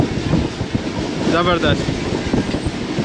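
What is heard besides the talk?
Pak Business Express train running at speed on rails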